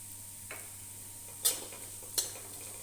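Moong dal roasts in ghee in a pan, with a low background hiss and three brief scraping stirs of a spoon, the last two sharper and louder.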